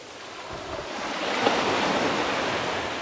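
Rough sea off Zanzibar, a steady broad roar of waves and surf washing in close by, swelling slightly and holding loud throughout with no voices.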